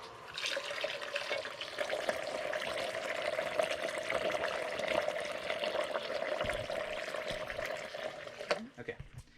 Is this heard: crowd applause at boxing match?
no